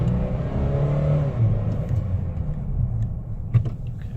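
A 2017 Nissan Frontier 2.5L four-cylinder King Cab engine revs in low gear, a steady close rumbling drone that rises and eases, heard alone from inside the cab.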